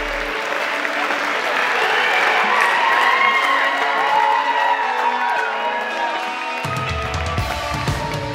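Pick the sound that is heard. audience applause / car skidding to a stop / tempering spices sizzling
audience applause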